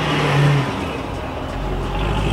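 A car pulls away from a Ford dealership lot, its engine revving and accelerating briefly then settling into a steady drone, moderately close with no talk.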